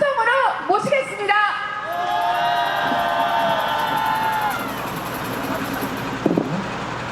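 A crowd at a cold outdoor candlelight rally in Incheon, South Korea, cheers and whoops loudly, with shouts and sustained vocal calls rising over the noise of a large gathering, then gradually easing off.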